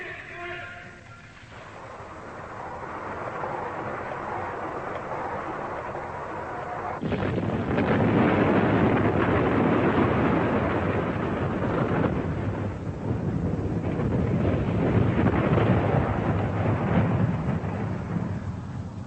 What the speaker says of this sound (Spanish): China hizo estallar su primera arma nuclear